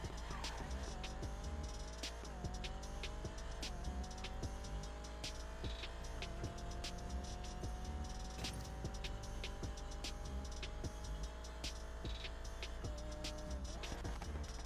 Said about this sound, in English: So let's shift it in first gear here, and I'm just gonna do a little run to the end of the track.